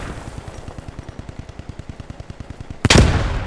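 Battle gunfire in a multiplayer shooter match: a rapid, steady stream of automatic shots rattles on for nearly three seconds, then a sudden, much louder blast ends it with a rumbling tail.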